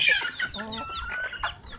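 Busy clucking from several young hens, overlapping soft calls and short chirps close by, with steady farmyard background noise.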